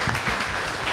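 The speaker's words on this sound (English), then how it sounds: "let's give Donovan a round of applause for the presentation." An audience at a marketing presentation claps in a brief, dense burst of applause, close and fairly loud, with no one speaking over it.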